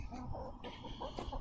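Backyard chickens clucking as they peck at vine peaches in a summer garden, soft close clucks over a steady outdoor background.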